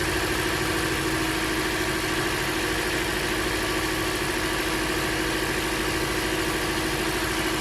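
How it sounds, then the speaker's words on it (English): Car engine idling roughly with a cylinder misfire, a steady, close, droning rumble with a constant hum and no speech. "So we definitely got a misfire on number 3."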